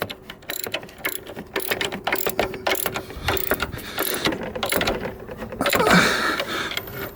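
Ratchet with a 17 mm socket tightening an alternator bolt on a Fiat Punto Grande, a run of quick close clicking pawl strokes in short bursts, with a brief scrape of metal near the end.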